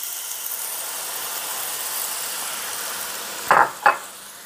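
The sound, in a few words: beef broth sizzling in hot pan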